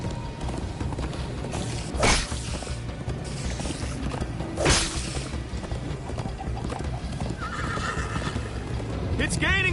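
Horses in the game Minecraft Story Mode gallop with steady hoofbeats, and two loud neighs rise above them, all under frequent dialogue between characters.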